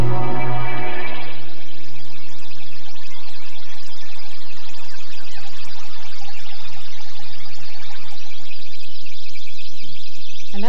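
A Kurzweil K2000 string sample, processed into a jungle-like texture of birds and running water, forms a dense, continuous wash of chirps and bubbling sounds after a brief tonal start.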